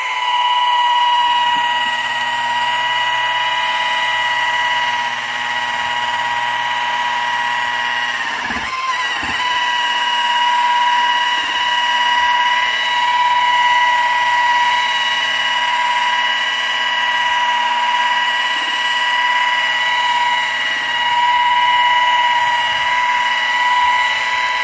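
A rotary buffer spins steadily at about 1800 RPM while polishing with beaver wax, making a continuous high whine that holds level throughout, with a brief dip partway through and no voices.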